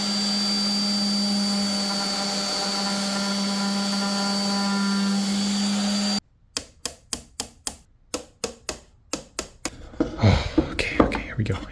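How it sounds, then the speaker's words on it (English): A wooden box is sanded down after a steady motor whine stops, leaving a rapid series of sharp, rhythmic scraping strokes close by that grow rougher and denser toward the end. "I need to take these out and then really sand that portion down"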